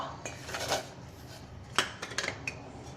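Metal cookware clanks and scrapes close by, a few sharp knocks near the end as a pot is set down, with no talking.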